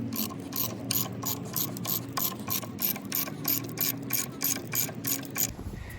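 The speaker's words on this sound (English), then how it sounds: "Now I'm gonna screw it together with lag bolts." A hand ratchet clicks in a steady rapid rhythm while driving 6-inch lag bolts into 4x6 treated lumber, close and fairly quiet, with brief pauses between strokes.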